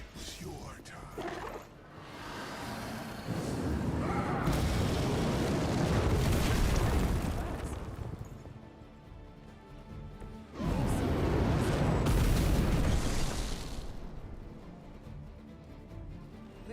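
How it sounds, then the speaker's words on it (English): Explosions in the video game Marvel's Midnight Suns, two long loud booming roars swelling and fading several seconds each, with a voice talking over the start. "Interesting that their explosions don't hurt Ghost Rider"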